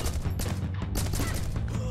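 Rapid gunfire from a newly acquired weapon in the video game Rocketbird, a dense continuous burst of loud shots with heavy low-end thump running the whole moment, no talk over it.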